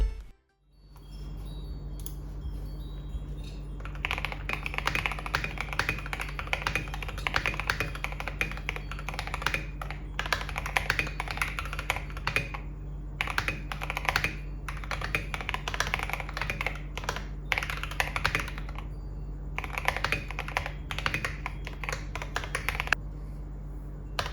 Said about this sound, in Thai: ทีนี้เนี่ยเราก็มาดูในส่วนของเสียงของคีย์บอร์ด